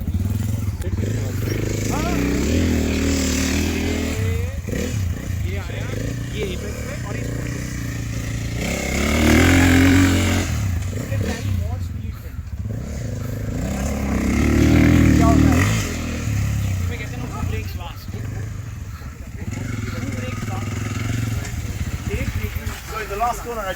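KTM 450 EXC dirt bike ridden hard through corners, its single-cylinder engine revving and accelerating in repeated surges with sustained loud drone, while a person talks over the engine noise throughout.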